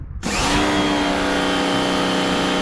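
A Lidl Parkside 170-bar pressure washer kicks on at full power, its motor whine and hissing spray jumping in abruptly and then holding loud and steady up close.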